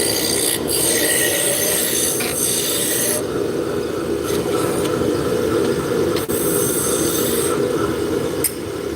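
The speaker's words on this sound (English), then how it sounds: "I'm going to start out with my roughing gouge and just bring it down where this will fit over the top." Roughing gouge cutting a spinning wood blank on a lathe, giving a steady, loud rasping scrape that runs continuously with slight changes in tone as the tool moves along the piece.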